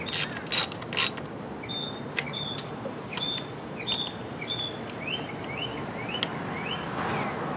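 Ratchet wrench clicking as spark plugs are gently snugged down, a quiet series of short pawl clicks in small bursts, with a few louder knocks of the tool near the start.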